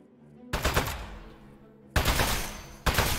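Gunfire aimed at a metal enemy in the video game Aperture Desk Job, three loud sharp bursts each trailing off, separated by quieter pauses.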